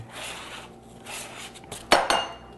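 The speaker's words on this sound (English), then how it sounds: "We're going to put this in a bowl and just scrape down the chocolate." A spatula scrapes melted chocolate from a pan into a bowl, making soft rubbing and scraping at close range, with a brief louder clink of utensil against the dish near the end.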